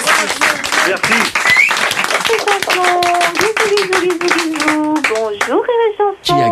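Quick, close hand clapping from a small group, fairly loud and mixed with voices talking and calling out over it.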